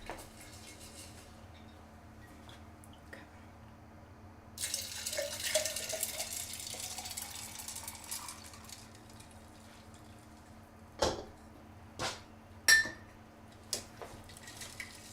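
Tap water pours into a water jug in a steady hiss for a few seconds, rising slightly in pitch as it fills, followed by several sharp clinks and knocks of the jug being handled.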